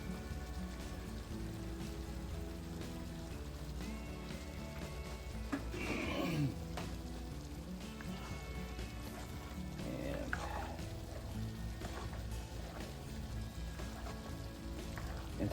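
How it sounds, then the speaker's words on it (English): Milk poured into melting butter in a pan gives a soft, steady hissing patter with a slightly louder splash partway through, quiet and continuous. "As that's starting to melt up, we start adding the milk in."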